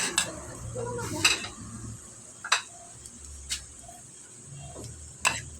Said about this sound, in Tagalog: Diyan mo na gisahin ngayon yung sibuyas at garlic